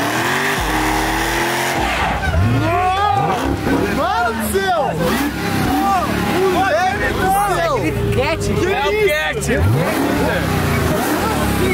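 An 800-horsepower new car revs hard and squeals its tires, the engine rising and falling in repeated loud sweeps with skidding, while a group of friends chatter and shout over it.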